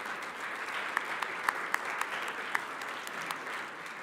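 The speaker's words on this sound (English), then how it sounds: "can we have a round of applause for people's service?" Audience applause at an annual meeting, a steady wash of many hands clapping throughout with a few sharper individual claps standing out, moderately loud and without talk.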